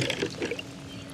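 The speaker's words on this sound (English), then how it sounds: "We're about to submerge it in roughly 4 gallons of water." A battery lowered into roughly four gallons of water for a waterproofing test, giving a brief splashing, pouring gurgle up close that fades quickly into quiet.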